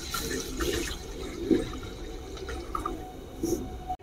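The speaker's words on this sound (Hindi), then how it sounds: "अब इसमें ना पानी भी डाल देंगे। तो देखिए हमने इस मग का एक मग जो है ना पानी डाल देंगे।" Water poured from a mug into fish curry masala in a home kitchen, a faint steady splashing pour with a few louder gurgles, no talking.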